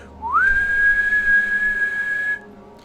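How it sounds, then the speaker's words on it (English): A factory lunch whistle, used as a sound effect in a tabletop role-playing session, gives one loud, clear tone that slides up briefly, then holds steady for about two seconds before cutting off, heard alone. "lunch whistle rings, or a break whistle for some of the workers on shift at the nearby factory"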